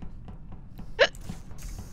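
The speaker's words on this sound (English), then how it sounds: "I apologize for the hiccups. I can't get them to go away." A single sharp hiccup from a man playing Among Us; one brief, close burst over a quiet room background.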